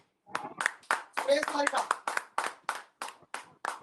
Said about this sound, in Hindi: तो एक बार जोरदार तालियों के साथ में स्वागत किया जाए